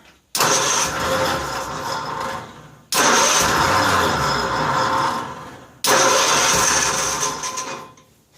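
Three attempts to cold start a 1955 Cushman Truckster engine follow one another, each a loud, close cranking and sputtering burst lasting a couple of seconds and separated by brief gaps.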